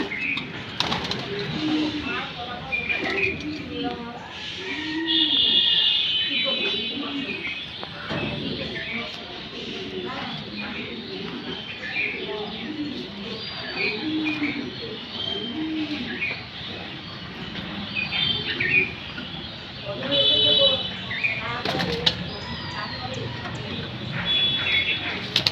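Racing pigeons coo softly and rustle inside a loft in Tangail, with low, repeated coos and a few chirps heard under ongoing conversation between people nearby.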